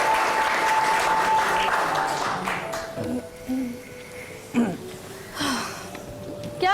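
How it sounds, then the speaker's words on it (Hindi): An audience applauds loudly on a stage show for the actors playing Romeo and Juliet, dense clapping that is strongest at first and then thins out, with a voice speaking over the fading claps. "आइए हमारे जूलियट और हमारे रोमियो के लिए जरा जोरदार तालियां तो हो जाए।"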